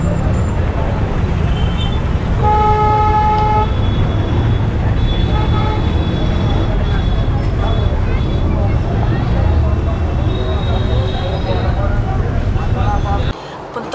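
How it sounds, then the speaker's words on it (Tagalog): Dense, slow-moving city traffic near a fort in India, with a steady roar of engines and steady horn tones sounding through the first few seconds, all continuous and loud until it cuts off near the end. "It's a slow-moving traffic also."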